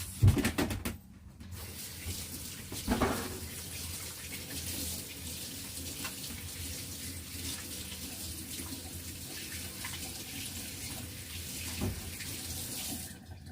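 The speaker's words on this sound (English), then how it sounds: "Need to wash my hands." A kitchen tap runs steadily into a sink while hands are washed, a continuous close hiss of water with a few brief splashes and clunks near the start and light handling sounds throughout.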